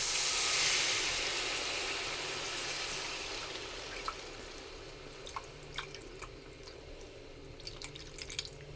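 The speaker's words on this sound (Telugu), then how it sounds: "ఇప్పుడు ఆ పులుసుని అయితే దీంట్లో యాడ్ చేస్తున్నాను చూడండి" Tamarind extract pours and trickles into a pot of okra and raw prawn stew, a soft steady liquid splash at first giving way to scattered drips, close and fairly quiet with no talking.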